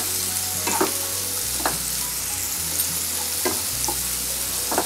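Karonda berries, onion and green chili fry in a pan with a steady, close sizzle, broken by a few soft scrapes and knocks of stirring.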